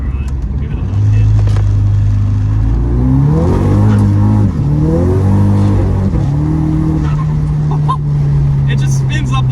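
Tuned 2008 Volkswagen Golf GTI Mk5 accelerating hard with its wheels spinning, a loud close engine note climbing through revs in steps with gear changes, then holding a steady drone, with excited voices over it.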